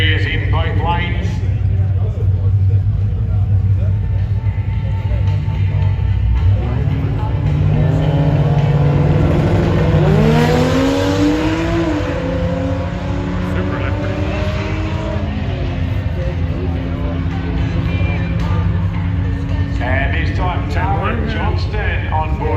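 Drag race cars stage and rev in both lanes at Tailem Bend, engines droning and rising in pitch with rising tonal sweeps, loud and continuous under a commentator's voice.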